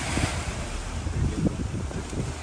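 Ocean rollers wash against a boat heading out of an inlet into open sea, a steady rushing surge with wind buffeting the microphone throughout.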